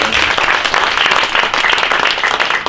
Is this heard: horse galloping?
no